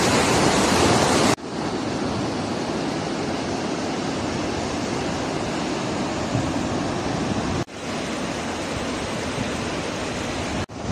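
The flooded Nibu river rushes after days of heavy rain, a loud, steady roar of churning water that holds constant from start to finish, broken only by a couple of brief cuts.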